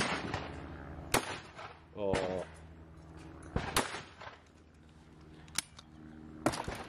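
A Beretta DT11 sporting shotgun fires at clay targets in four sharp, loud single reports spaced a couple of seconds apart. Someone talks through the gaps between shots.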